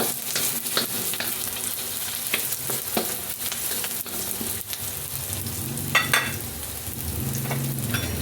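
Ginger and onion sautéing in a hot pan as the first step of Filipino dinuguan, a steady sizzle and hiss with repeated scraping and stirring clinks of a utensil against the pan.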